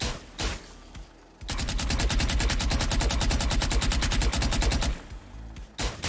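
A Prime-skinned Vandal rifle in the Valorant video game fires one loud, sustained automatic burst of rapid, evenly spaced shots for about three and a half seconds. A few isolated shots come before and after the burst.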